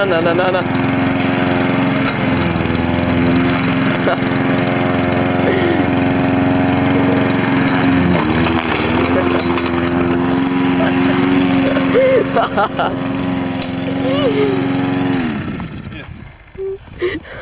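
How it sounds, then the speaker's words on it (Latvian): Lawn mower engine cutting grass runs loud and steady nearby with slight load changes, then cuts out near the end; voices talk over it. "Ne pa tēmu pļauj zāli."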